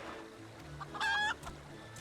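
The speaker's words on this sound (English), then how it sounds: "I tamed a rooster and painted it green" A green-painted rooster in Final Fantasy XIV gives a short, clear crowing cluck near the middle, over quiet game background ambience.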